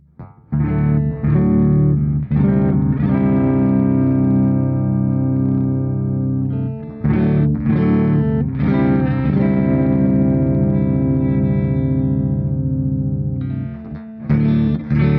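Distorted electric guitar chords ring out loud and sustained through a DV Mark DV 50 M 50-watt solid-state amp head, a few strummed hits with long held notes between them.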